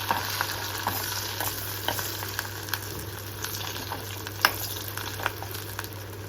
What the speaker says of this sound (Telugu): ఎండుమిర్చి కూడా బాగా రోస్ట్ అవుతే బాగుంటుంది. వేసేస్తున్నా. ఇంగువ లాస్ట్లో వేద్దాము, ఇవన్నీ వేగుతాయి కాబట్టి.